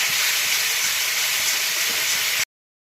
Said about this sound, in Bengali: এবারে আমি যে মশলাটা পেস্ট করে নিয়েছিলাম ওই মশলাটা ঢেলে দিচ্ছি